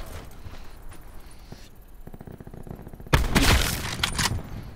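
Gunfire in Call of Duty: Black Ops 4 Blackout on PS5: quieter clicks and steps at first, then a sudden loud burst of shots with dense crackling fire over the last couple of seconds.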